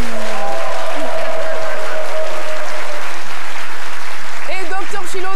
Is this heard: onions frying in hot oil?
no